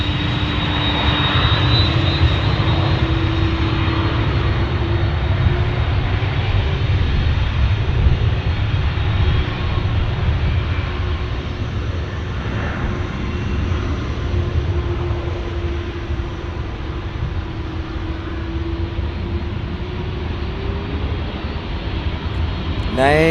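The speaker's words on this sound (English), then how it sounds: "As you can hear the MD-11, those engines, there it is, there it is." A McDonnell Douglas MD-11's jet engines roar continuously at Dallas Fort Worth airport, a loud, steady rumble with a whining tone that swells and ebbs slightly as the aircraft moves, with a voice talking over it.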